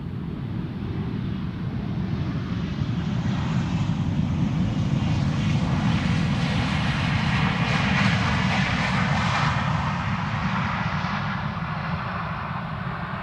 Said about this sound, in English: KLM flight 1042, Boeing 737-700, arriving from Birmingham.